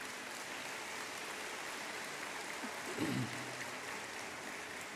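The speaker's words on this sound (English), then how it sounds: "If you'd give all of these people a round of applause." Audience at a 2011 Metro Tech graduation ceremony applauding in a steady, dense wash of clapping that holds evenly throughout, heard from a distance in a large hall, with a faint low murmur partway through.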